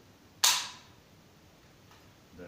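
A single sharp blank shot from a Red Army small arm, fired as a salute, cracks once loudly and decays quickly, followed by faint mechanical handling noise.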